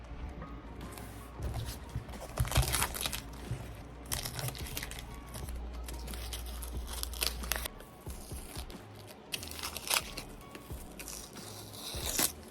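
Tape is peeled off an airbrushed shoe in a series of crinkling rips and crackles, some sharp and close, with brief pauses and faint handling noise between them.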